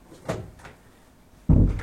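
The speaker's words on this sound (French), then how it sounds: "Par exemple, je vais fermer une porte." A door is closed in a room: two soft knocks of handling, then a louder, near thud as it shuts, heard with quiet room ambience and no voices.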